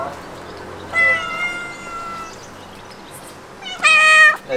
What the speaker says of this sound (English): a whole family of cats coming to visit us